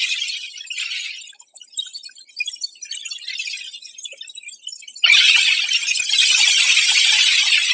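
Coronal mass ejection particles striking spacecraft, converted to sound, give a high, glassy crackling hiss that flickers unevenly, then jumps to a louder, steady sizzling wash partway through.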